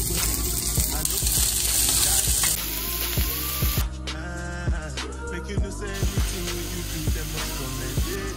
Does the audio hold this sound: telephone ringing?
no